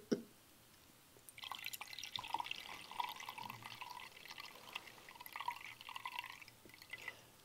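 Wine is poured into a glass, a soft trickling liquid stream that runs steadily for several seconds, faint and close, following a small clink at the start.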